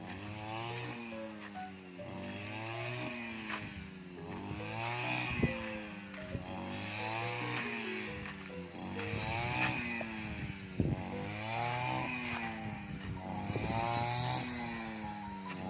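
A small two-stroke brush cutter cutting grass whines close by, its engine revving up and easing off again and again in a steady cutting rhythm.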